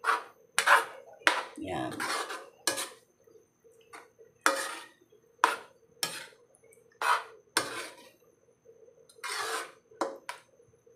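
Metal utensil stirring and scraping food in a home-cooked pan dish seasoned with Knorr, giving a series of short clinking, scraping strokes at a steady rhythm, close up, with a brief word spoken between them.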